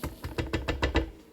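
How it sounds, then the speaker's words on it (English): A series of about seven soft, hollow taps of a pepper held upside down on a wooden cutting board, in a quick steady rhythm, close and fairly quiet. "Then I take the pepper and I tap it upside down"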